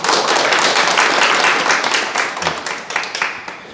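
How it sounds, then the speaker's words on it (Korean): An audience at a Korean Sunday dharma lecture bursts into steady clapping that fades gradually toward the end, heard in a hall with faint voices beneath. "박수 한번 치주세요."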